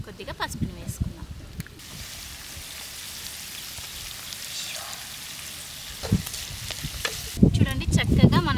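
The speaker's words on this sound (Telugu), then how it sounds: "మనం వేసిన ఐటమ్స్ అన్నీ చక్కగా నూనెలో వేగాయి" Spices and turmeric sizzle steadily in hot oil in a home kitchen pan for chicken curry, a continuous frying hiss beneath someone talking, with stirring clatter near the start and end.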